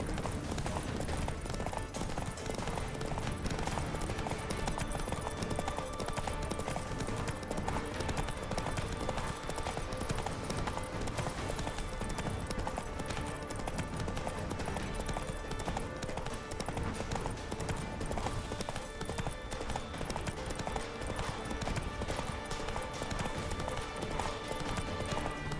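Roach the horse gallops across The Witcher 3 game world, a continuous rapid clip-clop of hooves at steady loud level throughout, with occasional faint game sounds mixed beneath.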